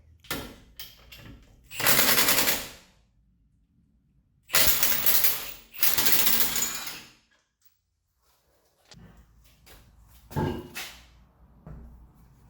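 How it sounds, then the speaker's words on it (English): Fasteners being undone by hand on a second-generation Mini during belt tensioner replacement near the brake rotor: bursts of metallic ratcheting and clattering tool noise in several loud spells separated by quieter pauses, with no talking. "undo all the fasteners on this side and then pull it back behind the brake rotor"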